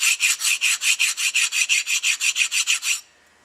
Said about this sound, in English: You can either use a flat file.